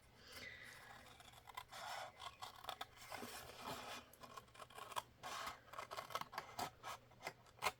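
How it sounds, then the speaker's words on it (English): Scissors snip repeatedly through stiff card, close and quiet, with scraping and rustling between the cuts. "I'm going to grab my scissors"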